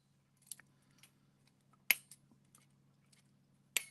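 Scissors snipping paper for a stitched handmade card, a few sparse, crisp cuts spaced irregularly over a quiet background, with two louder close snips standing out.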